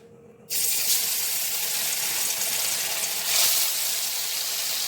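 Katla fish pieces rubbed with salt and turmeric drop into hot oil in a kadai, setting off a loud, steady sizzle that bursts in abruptly and holds without a break; no voices.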